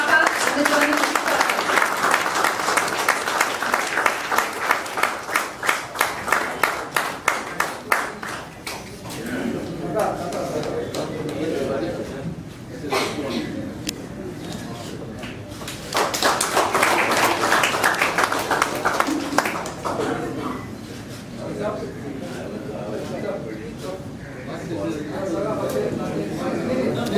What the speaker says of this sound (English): A loud applause for Mr. Gurudas R Singbal, also known as Kaka in the journalistic circle.